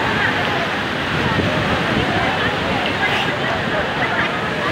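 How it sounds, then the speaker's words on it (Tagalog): Steady, dense rushing roar of Taytay Falls in Majayjay, Laguna, loud and close, filling the whole clip without pause. "Taytay Falls"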